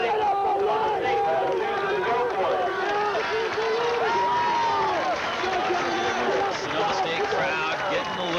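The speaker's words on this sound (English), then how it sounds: "crowd getting a little bit involved here" Crowd at a 1993 college football game between Sonoma State and St. Mary's College in Moraga, California, a dense roar of cheering and shouting voices that stays loud and continuous, with many voices calling out over one another.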